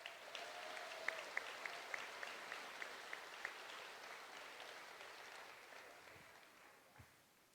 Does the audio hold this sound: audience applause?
yes